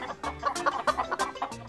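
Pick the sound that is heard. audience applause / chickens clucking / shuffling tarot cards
chickens clucking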